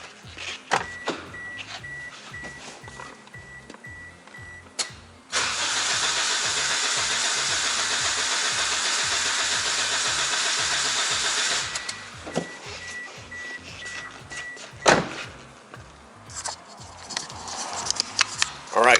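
A car engine cranks with a steady starter whir for several seconds, catches and starts, then settles and cuts off, with faint clicks and knocks around it.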